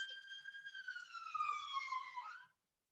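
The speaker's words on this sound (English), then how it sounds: "I'll just wait for that siren to go past." An emergency siren wails outside, a single falling tonal sweep that holds fairly faint and distant, then fades out and leaves silence.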